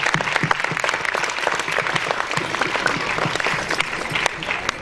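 An audience at a school interactive session in Surat claps steadily, dense and even applause from a crowd that carries on at full strength throughout with no talk over it.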